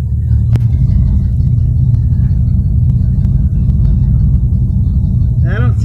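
A 1975 Dodge Tradesman engine running at a steady idle, a loud, deep, continuous rumble close by with a few faint clicks over it and a brief voice near the end.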